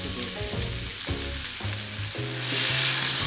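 Stock pours into a pot holding seared beef for beef bourguignon, a steady loud sizzle and bubbling rush that swells toward the end, with no voices.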